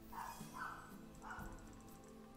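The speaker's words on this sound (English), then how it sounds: "Again, my dog wants to go crazy." A dog barks in a few quick, moderately loud yips and woofs, about three bursts in the first second and a half, followed by a quieter stretch with some background noise.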